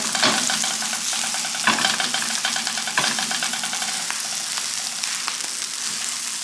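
Butter and food sizzling in a pan for Korean street toast: a loud, steady crackling fry throughout, with a few clicks and scrapes from stirring.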